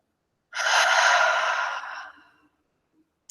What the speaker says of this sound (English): Inhale through the nose and exhale out the mouth.